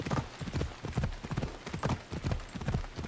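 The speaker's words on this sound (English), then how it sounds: "Donkeys." Donkeys' hooves clip-clop in Assassin's Creed Odyssey, a steady, rhythmic patter of hoofbeats at moderate distance, fairly quiet and heard alone.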